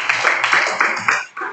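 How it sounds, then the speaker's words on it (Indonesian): Hands clapping together in a school classroom, a brisk burst of dense, steady applause from students that runs throughout, dips briefly near the end, then resumes. "Tepuk tangan dulu."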